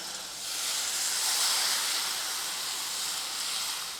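Water hits a hot kadhai and sizzles loudly, a bright hissing burst that swells and then holds steady for a few seconds.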